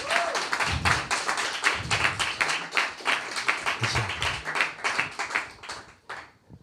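An audience claps and applauds at an evening gathering on anti-fascism and undocumented migrants' struggles, a steady close rhythm of many hands with distinct individual claps, fading out at the end.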